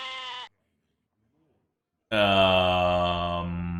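A goat bleats as a stream alert sound: a short nasal bleat, a gap of silence, then a longer, louder wavering bleat, all close and clear.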